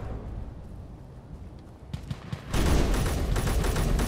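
Video game gunfire aimed at the player: a rapid, continuous burst of loud shots suddenly erupting and holding steady after a quieter stretch with a few isolated pops.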